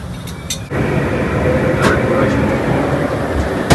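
A steady low rumble of an empty metro train in motion, with continuous rolling noise and a faint squeal partway through.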